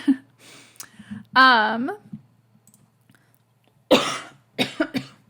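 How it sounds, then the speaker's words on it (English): A couple of sharp coughs close to the microphone, separated by pauses, with a brief vocal sound and soft clicks in between. "I might have a little cough here and there."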